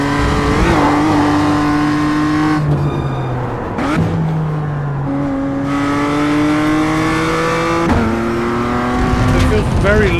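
A damaged race car engine in an iRacing game drones and revs through gear changes, with the pitch climbing, dropping and climbing again. It stays loud and close the whole time.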